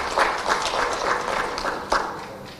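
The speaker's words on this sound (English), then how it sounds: "A big applause to the Deputy Secretary General." Crowd applause at an outdoor political manifesto launch event, a steady wash of many hands clapping at moderate loudness with a few sharper claps standing out.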